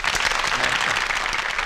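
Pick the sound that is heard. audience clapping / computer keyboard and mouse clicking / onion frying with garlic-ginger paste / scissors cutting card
audience clapping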